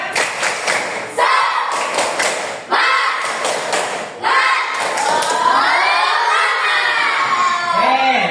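A class of schoolchildren performs the tepuk semangat clapping chant, with loud rhythmic bursts of group clapping and thumping under shouted, chanting young voices, in repeated phrases with short pauses between.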